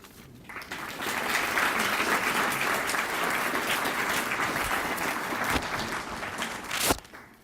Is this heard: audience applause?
yes